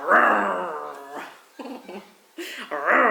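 A small dog growls and whimpers in short bursts close by, mixed with people talking throughout.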